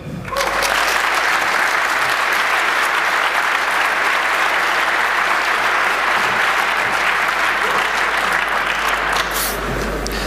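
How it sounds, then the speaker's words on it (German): A hall audience at a hacker congress applauds to welcome a speaker, loud sustained clapping that holds steady for about ten seconds and fades slightly at the end. "lass uns mit einem freudigen Applaus begrüßen"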